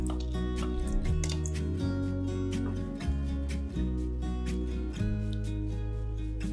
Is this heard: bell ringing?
no